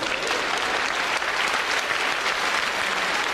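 Dense, continuous applause from a comedy show audience fills the hall at a steady, even level, many hands clapping at once with no voices breaking through.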